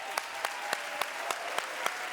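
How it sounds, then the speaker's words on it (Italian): Audience applause at an Italian television comedy show, a steady wash of clapping with sharp rhythmic accents recurring about every quarter second, moderately loud and without talk. "Io farei un grande applauso a Greta Thunberg."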